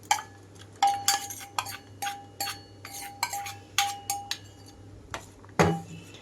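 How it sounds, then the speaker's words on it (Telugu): Dry fruits dropping into a steel pan of flattened rice payasam, giving a string of bright metallic clinks and taps at a steady uneven rhythm, close and clear over a low steady hum. "ఇప్పుడు ఇందులోకి డ్రై ఫ్రూట్స్ మొత్తం వేసుకుంటున్నాను."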